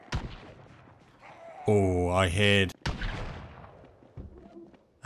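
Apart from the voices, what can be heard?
gunshots in video game, Escape from Tarkov inspired mod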